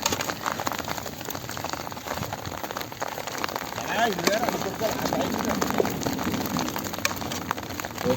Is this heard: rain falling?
yes